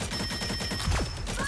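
Rapid machine gun bursts in the video game Marvel Rivals, a dense rhythmic rattle of quick repeated shots running continuously throughout, with a brief whooshing effect partway through.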